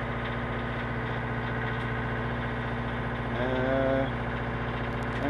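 A tractor engine idles in neutral with a steady, quiet mechanical hum and vibration, rising slightly toward the end.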